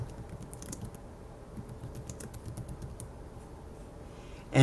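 Keys clatter on a computer keyboard as display text is typed, a run of quick, light, close clicks in uneven bursts over a quiet background.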